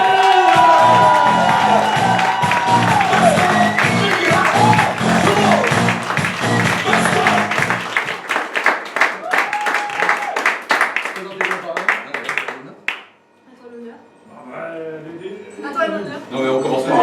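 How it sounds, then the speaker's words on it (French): An improv show audience bursts into loud applause with cheers and whoops, a dense crowd roar that thins into scattered clapping, shouts and voices before a brief lull and renewed chatter. "Je vais vous demander de faire un triomphe d'applaudissements"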